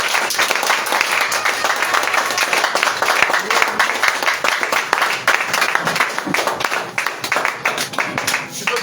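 A church congregation at an evening thanksgiving service claps continuously in praise of Jesus, with rapid, dense clapping and voices mixed into the sound throughout.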